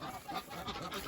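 Ducks and a drake calling on a farm, a busy, continuous stretch of honking quacks with no clear pauses, fairly steady in loudness and moderately close.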